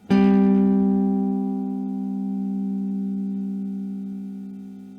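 A single note played through a small LM386 amplifier circuit rings out with a sharp attack, then sustains and slowly decays, its volume dipping and swelling back up partway through. No one speaks over it.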